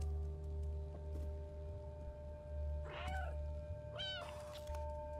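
A cat in the video game Stray meows twice in quick succession, clear and close, over a steady low electronic hum of the game's ambience.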